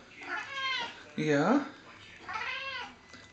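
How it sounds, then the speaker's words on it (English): A cat sitting on a sink meows loudly three times, drawn-out and pleading, close to the microphone, with a brief spoken word between the cries. "He will sit on the sink and cry because he wants water."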